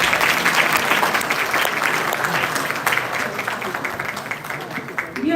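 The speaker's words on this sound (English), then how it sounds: "please, a huge round of applause for all." Sustained applause from a conference audience of faculty, colleagues and students at an institute, dense steady clapping filling the room for several seconds at a fairly loud, even level.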